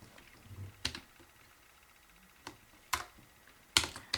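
Keystrokes on a Keychron K1 mechanical keyboard, a handful of sparse, crisp clicks spaced irregularly over a quiet room.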